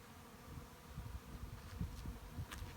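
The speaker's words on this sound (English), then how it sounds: "We caught a swarm yesterday, so this is a really big swarm." A very large swarm of bees drones in a Humboldt County neighborhood, a dense, steady hum with individual insects buzzing close past. It carries on alone without talk.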